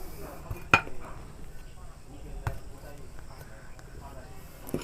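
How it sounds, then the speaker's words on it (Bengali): A metal clutch plate is fitted onto a power tiller clutch, giving one sharp metallic clink followed by a few quieter knocks and taps in a quiet workshop, with a low voice talking. "তো এবার ক্লাচ প্লেটটা যা ফিটিং দিই।"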